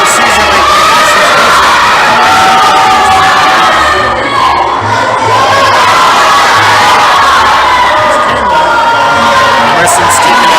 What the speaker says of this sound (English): You can probably hear the crowd going crazy.